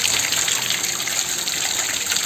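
Water gushes steadily through a homemade household water filter layered with charcoal, coarse broken river stone and finer stone in a refill cartridge, giving a loud, constant close rush with no voices.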